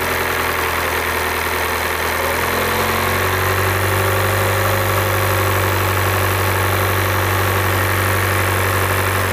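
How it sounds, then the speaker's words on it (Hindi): A Skoda Superb engine idles steadily up close during an overheating repair, with the oil cooler body replaced and coolant being topped up. It gives a continuous low, even hum with a slight shift in tone partway through and no talk. "और गाड़ी को मैंने स्टार्ट रखा है"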